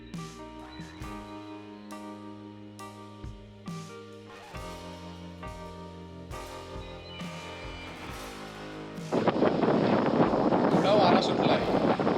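Quiet tonal sounds give way to a burst of wind buffeting the microphone, rough and blustery, for the last few seconds, on top of Bhivgad fort near Karjat in the monsoon.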